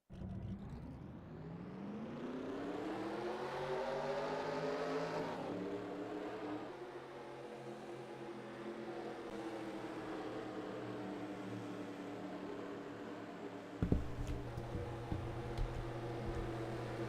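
Race car engines fire up and rev in a stock-car racing video game at Armory Digital Superspeedway, a rising whirring drone of several engines settling into a steady idle, with a brief clunk near the end.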